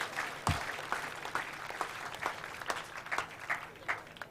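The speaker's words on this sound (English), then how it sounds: "Can we have a big round of applause for Rosemary Schrager?" Applause at a 2019 local hero awards ceremony for Rosemary Schrager, a thin, scattered patter of claps at moderate distance with no voices, dying back between sharper individual hand strikes.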